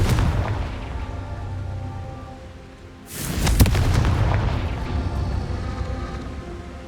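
In the Hogwarts Legacy video game, the Confringo spell detonates with a sudden loud boom, and a rumbling blast tail decays over several seconds after a quieter, roaring lead-in.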